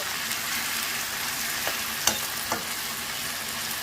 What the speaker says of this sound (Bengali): শাকগুলোকে ভেজে নিতে হবে